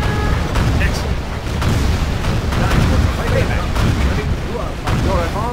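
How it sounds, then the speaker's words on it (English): Rocket fire and explosions in Command & Conquer Generals Rise of the Reds, a loud continuous barrage of booms and blasts with overlapping bursts, while unit voices speak over the battle. "Firing rockets."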